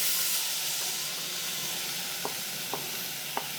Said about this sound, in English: I'm going to add my tomatoes.